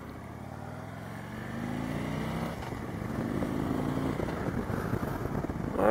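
A Harley Davidson Ultra Classic motorcycle with over 200,000 km on it pulls away from traffic lights at about six in the evening, its engine note rising steadily and growing louder as it accelerates, heard from the rider's position.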